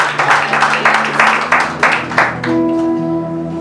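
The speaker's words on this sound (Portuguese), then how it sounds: "Aplauda para receber o servo em nome de" Applause breaks out in a church congregation, a series of bursts of hand clapping during the first half, then it fades as sustained organ or keyboard tones take over.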